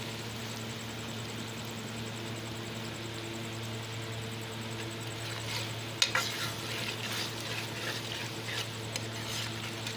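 Potatoes and eggs frying in a pan while being stirred, a steady sizzle over a low hum, with a sharp utensil clack and scraping stirs in the second half.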